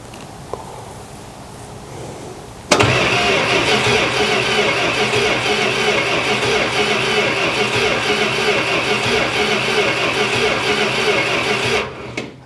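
A Dodge Coronet engine, started for the first time in over 20 years, cranks briefly and then fires into a steady, loud idle that runs continuously up close before cutting off near the end.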